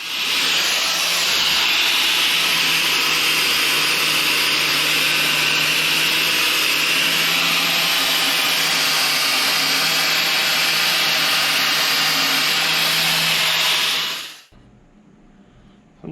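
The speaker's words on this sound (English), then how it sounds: "I'm gonna go ahead and just take the flapper wheel and clean up the edges on both of these" A flap wheel on an angle grinder bevels and cleans up steel edges before welding, a loud, steady high-pitched grinding whine that runs continuously up close for about fourteen seconds, then cuts off abruptly.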